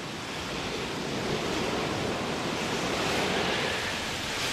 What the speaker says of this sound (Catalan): El corrent de l'aigua se'ls emporta.